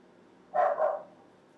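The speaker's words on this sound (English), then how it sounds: "That's my dog." A single dog gives one short, close double bark, loud against a quiet room, with no talking.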